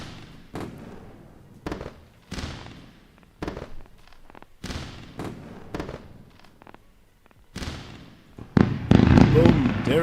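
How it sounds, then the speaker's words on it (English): Fireworks sound effect played on a live NQ futures day-trading stream: a string of sharp bursts and crackles repeating every half second or so, growing into a dense crackling barrage at the end, with a voice talking underneath. "Time for a beautiful round of fireworks."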